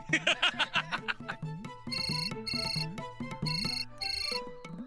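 Mobile phone ringtone in a village setting: a repeating bright electronic melody with plucky notes and sustained tones, playing clearly and alone for several seconds.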